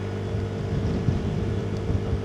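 A scooter engine hums while riding through the Nitra region countryside, a steady low drone with a constant motor tone and wind rush, close and unbroken, with no talking.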